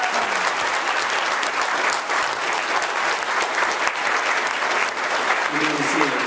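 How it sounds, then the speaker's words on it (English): Sustained, loud applause from a graduation audience honoring the standing staff and faculty, dense clapping filling the hall throughout with some crowd murmur and a voice briefly audible near the end. "Let's give these folks a round of applause."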